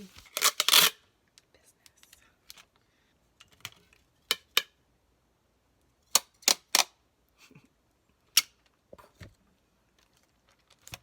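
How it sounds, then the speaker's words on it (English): Packing tape pulled off a roll and torn while sealing a shipping package: a sharp tearing burst, then several short, crisp rips spaced out over quiet moments. "Now we're gonna tape it on."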